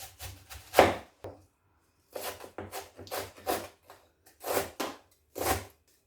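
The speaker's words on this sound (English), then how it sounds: "you can either chop up some cabbage nice and fine" Cabbage being sliced into fine strips with a knife on a board: a close, quiet run of uneven, sharp chopping strokes in short clusters with brief pauses between them.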